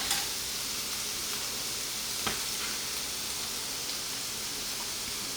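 Vegan spaghetti sauce simmering in a pan gives a steady, even sizzle with faint bubbling, plus one small clink partway through and no talking.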